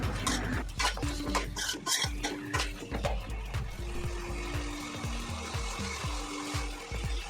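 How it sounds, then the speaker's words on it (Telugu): Chicken, about three quarters of a kilo, is stirred in hot oil in a pan for a spicy chicken fry, giving repeated scraping and clattering strokes of the utensil against the pan over a faint sizzle, close and busy throughout. "దీన్ని మొత్తాన్ని మంచిగా కలిసే వరకు నీట్గా కలుపుకోవాలి."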